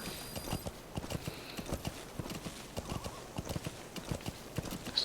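Horse hooves clip-clop at a steady gallop in Metal Gear Solid 5: The Phantom Pain, with a brief whinny near the start; the hoofbeats are close, rhythmic and fairly loud throughout.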